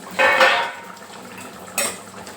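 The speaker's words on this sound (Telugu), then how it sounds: "ఇప్పుడు మళ్ళీ ఒకసారి మూత తీసి చూసుకుందాం" A metal lid scrapes and clanks as it is lifted off a pot of simmering fish curry, followed a moment later by a lighter metallic clink.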